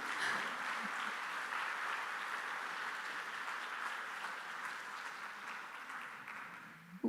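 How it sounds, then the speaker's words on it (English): A sustained round of applause from a conference audience, steady and dense, fading slightly before a brief bump at the end. "So a round of applause for the next speakers."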